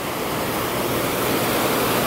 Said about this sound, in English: Woo, the waves are getting big.